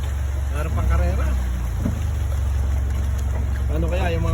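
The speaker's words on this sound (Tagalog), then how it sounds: "Turbo yung mga bangka dito sa Thailand." Turbocharged longtail motorboat at a Thai floating market, its engine a loud, continuous low drone with wind buffeting, and faint voices talking over it from time to time.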